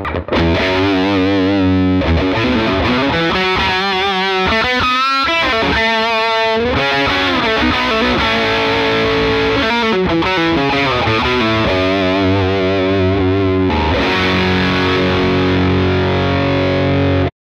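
An electric guitar through a SonicTone Royal Crown 30 (RC30) 30W British rock tube amp on cool mode, with crunchy distortion, plays a string of loud melodic licks and bends, with brief pauses between phrases.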